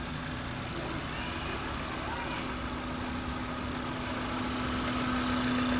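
A 2011 Kia Morning with a 1.0 engine idling smoothly, a steady low hum with a faint whine rising near the end, with someone talking over it.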